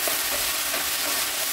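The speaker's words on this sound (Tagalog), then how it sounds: "Pwede na natin ihalo yung ating sibuyas." Chopped onions fry and get stirred in a pan, giving a steady close sizzle with soft scraping stir sounds and no talking.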